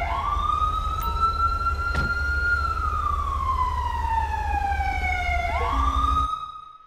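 An ambulance siren in GTA V with the LSPDFR police mod wails in long rising and falling sweeps over a low engine rumble, loud and close, then cuts off abruptly near the end.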